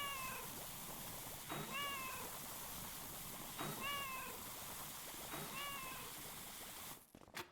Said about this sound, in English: why the hell am I hearing my cats nonstop?